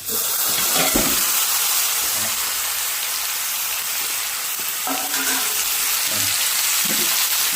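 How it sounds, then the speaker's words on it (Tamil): Cut pieces of fish sizzle steadily in hot oil, a loud continuous frying hiss with occasional sharper crackles and spatters, close up and with no talk. "இனி நான் வெட்டி வச்சுக்க மீனை அப்படியே போட போகிறோம்."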